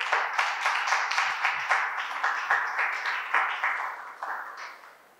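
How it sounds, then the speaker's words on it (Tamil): A church congregation claps in unison for the Lord, a run of sharp, rhythmic hand claps at a steady beat that slows and fades toward the end. "நல்லா கைத்தட்டுங்க பார்க்கலாம் ஆண்டவருக்கு."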